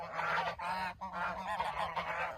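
A goose honks repeatedly and loudly up close, a rough, nasal call repeated in quick succession without pause.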